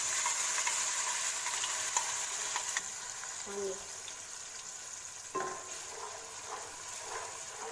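A ground coriander and curry leaf paste frying in hot oil for coriander rice gives a steady, close sizzle, punctuated by a few clinks and scrapes of stirring in the pan.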